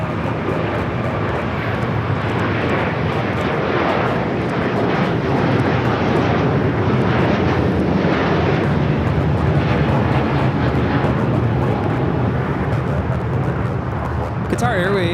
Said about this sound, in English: Qatar Airways 740 taking off to Doha on the A350 1000